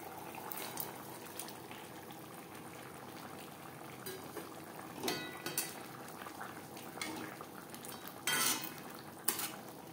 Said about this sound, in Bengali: গ্রেভি বেশ ভালো করে ফুটিয়ে নেওয়ার পর দিয়ে দেব ভেজে রাখা মাছ